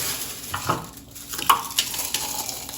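Dehydrated onion chunks are crunched up by hand, giving soft, irregular crackling and rustling bursts at close range.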